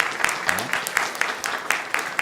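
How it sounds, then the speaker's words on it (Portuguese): Audience applauding at a medical students' ethics code forum, a thin, fairly quiet patter of clapping with a regular rhythm of sharper individual claps standing out, and faint voices in the background. "Uma salva de palmas para a Rejane"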